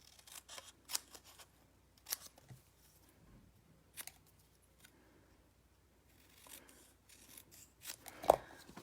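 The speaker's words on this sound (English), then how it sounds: "So I'm going to hand cut." Scissors snipping by hand through stamped cardstock for a Christmas card, a series of faint, scattered crisp cuts spread out with quiet pauses between them and one louder snip near the end.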